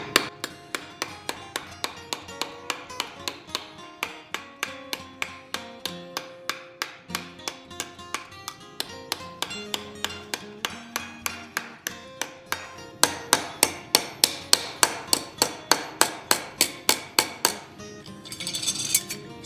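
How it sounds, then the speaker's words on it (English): Steady hammer blows ring on metal being forged into a chess piece, dozens of sharp strikes at a quick even rhythm, briefly louder toward the end before a softer scraping pause. "So now I'm just hammering."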